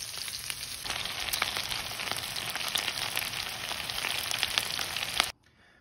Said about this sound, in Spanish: Ya puestos en sartén, hay que esperar a que el tocino se dore por ambos lados